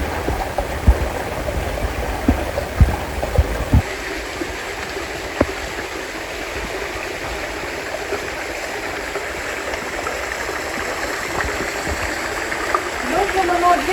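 Mountain streams in La Caldera de Taburiente, La Palma, flowing together: steady, loud broadband rush of running water throughout, with brief knocks and rustles early on.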